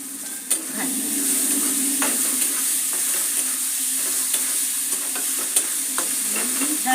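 Tomatoes fry in a pan for a village-style tomato chutney, with a steady sizzle running the whole way and occasional stirring clinks and scrapes close by.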